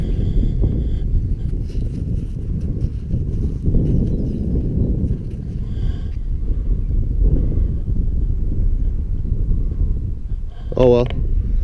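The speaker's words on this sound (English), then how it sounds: "As you can hear, guys, it's really windy." Strong gusts buffet a microphone outdoors by trees in a UK field, producing heavy low rumbling bursts that rise and fall unevenly throughout.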